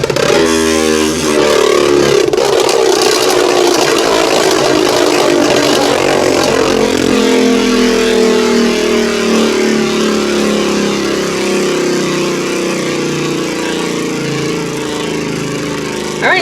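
A Beyblade Burst Turbo spinning top whirs on a stadium after launch, a loud steady whine whose pitch slowly drops as it spins down, with scraping underneath.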